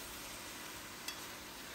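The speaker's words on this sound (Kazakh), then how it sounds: "Енді үстінен туралынған сәбізімізді салып, мұны да аздап қуырып аламыз." Chopped carrots frying in a pan for Uzbek shashpa plov, giving a steady, fairly quiet broadband sizzle throughout with one brief sharper tick near the middle, no voices.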